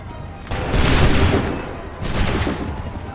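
Musket volleys in the Assassin's Creed III Remastered video game: two loud, rolling bursts of massed gunfire, each a dense crackling boom that swells and decays, heard close with no talk over them.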